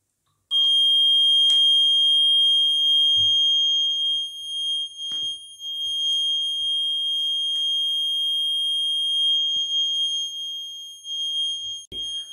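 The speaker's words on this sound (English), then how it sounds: "the sound from the buzzer will be increased" A piezo buzzer in a liquid conductivity test circuit gives a steady high-pitched tone that holds for about eleven seconds, with faint clicks and taps underneath.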